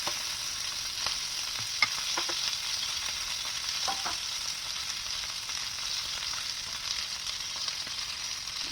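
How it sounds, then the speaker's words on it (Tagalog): Salmon belly fries in hot oil with browned garlic, producing a constant hissing sizzle close up, broken by a few soft crackles and utensil taps, with no talking. "Nag-brown na yung bawang, ilagay na natin yung salmon belly."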